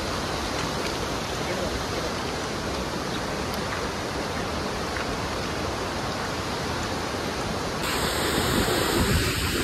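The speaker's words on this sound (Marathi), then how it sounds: "हा आहे रानपाटचा धबधबा" Ranpat waterfall roars as a dense, constant rush of falling water heard close up, a broad steady wash that grows slightly louder toward the end.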